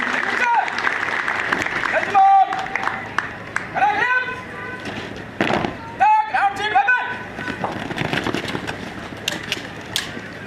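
Applause from spectators at a passing out parade of new recruits of an SSB training centre, mixed with sharp metallic knocks and an amplified voice over a loudspeaker, loud and busy throughout.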